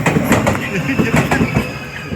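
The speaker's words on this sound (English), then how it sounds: "Seeing a train for the first time." A train passes by in Japan, with a loud steady rumble and rhythmic clickety-clack of wheels over the rails, heard up close for a couple of seconds.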